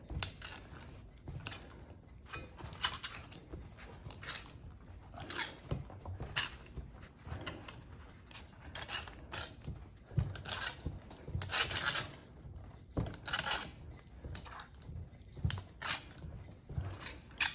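Sheet metal being worked with a hand shrinker and stretcher, giving repeated scraping and crinkling clanks in an irregular rhythm, close and moderately loud, with no talking.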